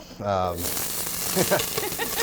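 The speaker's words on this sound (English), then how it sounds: "So I'm going to start with a hot pan." Pork chops sizzle in a hot pan as a steady, crackling hiss that holds for a couple of seconds. A brief voice-like tone comes just before it.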